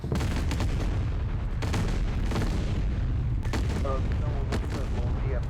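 Sniper fire bringing down an aircraft in a video game, with repeated sharp gunshots and heavy booming blasts amid continuous loud battlefield rumble.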